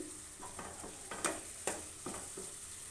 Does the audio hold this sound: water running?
no